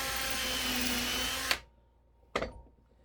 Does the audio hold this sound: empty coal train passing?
no